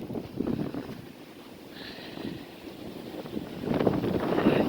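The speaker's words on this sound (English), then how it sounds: "it's windy. It's gonna get windier, I think." Steady wind roars and buffets the microphone, gusting stronger toward the end, with no one speaking.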